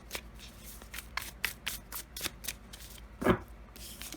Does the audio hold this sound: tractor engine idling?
no